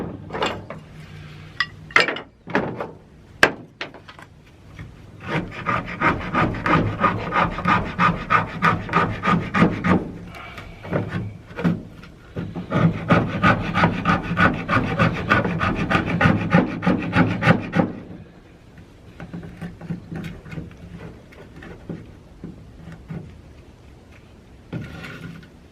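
A knife shaves curls from a stick of wood to make feather sticks: repeated rough scraping strokes rasp close by in two sustained runs, with scattered sharp clicks and lighter scraping between them.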